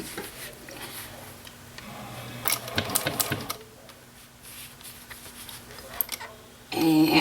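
Sewing machine putting a couple of stitches into a leather wristlet clutch while pivoting around a corner: a short burst of quick mechanical clatter, quiet, with a voice talking briefly nearby.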